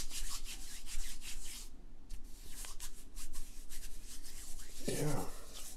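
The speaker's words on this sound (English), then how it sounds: "Get some on there, and then I'm going to rub it in." Hands rubbing a homemade lotion bar into the skin, a soft, steady close-up friction sound running throughout with brief pauses and slight changes in texture.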